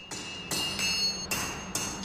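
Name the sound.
hammer blows forging red-hot steel bar for sword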